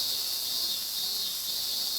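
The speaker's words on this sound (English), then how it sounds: "Strong breeze, the summer sky, the calls of the cicadas." Cicadas call on a summer rooftop, a constant high shrill drone, loud and unbroken, with no voices.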